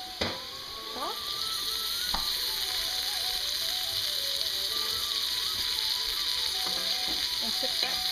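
Chopped garlic and vegetables frying in a pan give a steady, loud sizzle throughout, with a few sharp utensil taps and scraping stirs near the start and end; no voices.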